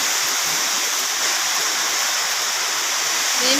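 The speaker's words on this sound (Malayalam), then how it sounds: "അയ്യോ നല്ല മഴ," Heavy summer rain pours in a dense, steady roar, loud and unbroken throughout with no voices over it.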